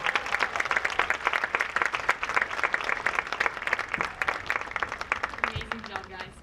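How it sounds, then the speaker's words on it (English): An audience at a graduation ceremony applauds the choir with dense, steady clapping that continues throughout and begins to fade near the end, with scattered voices faintly under it. "Can we give the choir another round of applause?"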